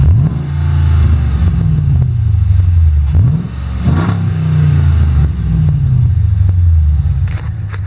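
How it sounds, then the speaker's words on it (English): 345-horsepower car engine on a cold start, revved repeatedly in loud, close bursts that rise and fall in a rhythmic pattern over a deep rumbling idle. "I can actually rev it up for you and show you kind of more or less what this thing sounds like."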